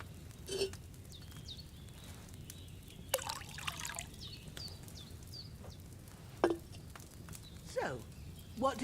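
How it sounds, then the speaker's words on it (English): In Kingdom Come: Deliverance 2, wine is poured into a cauldron: faint, scattered trickles and small liquid splashes come in short bursts over a low, quiet room tone. "First, you have to pour the right base into the cauldron."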